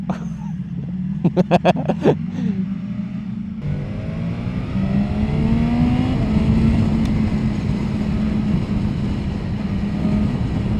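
A superbike engine, a BMW S1000RR or Ducati Panigale V4S, idles and then revs up into a loud, rising, sustained drone close by, after a few sharp clicks at the start.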